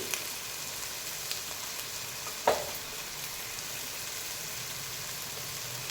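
Masala of garam masala, turmeric and red chilli powder frying for paneer dum biryani, a steady soft sizzle throughout with one brief scrape of a spoon midway, no talking.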